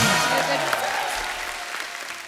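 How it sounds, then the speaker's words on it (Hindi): Applause from a television comedy show studio audience, already at full strength and slowly thinning. A voice speaks over it near the start. "तालियां जोरदार होनी चाहिए।"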